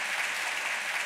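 An audience on an Armenian television game show applauds its guest stars, a dense, steady burst of many hands clapping together at close range for about a second, with no talk.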